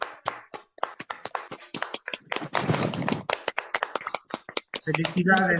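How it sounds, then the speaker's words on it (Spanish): Scattered claps and taps come through several open microphones in an online recovery-group meeting, uneven and close-miked, with a burst of overlapping noise midway and a voice beginning near the end. "abran su micrófono para darle un fuerte aplauso a Florentino"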